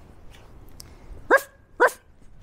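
A woman standing in a street imitates a dog with her voice, giving two sharp, loud barks about half a second apart over faint background noise.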